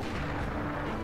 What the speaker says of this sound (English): We're gonna use the other armor-piercing sniper.